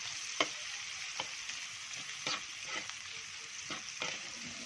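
Garlic and onion sautéing in a hot pan with pork, a steady close sizzle broken by several sharp scrapes of a spatula stirring the pan.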